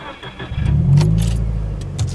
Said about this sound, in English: Alright, so you turned on the car.